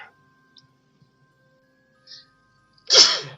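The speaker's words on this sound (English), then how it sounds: "I hope it didn't hurt your ears with me sneezing." A single sharp human sneeze bursts out loudly near the end after a few seconds of near silence with faint small ticks.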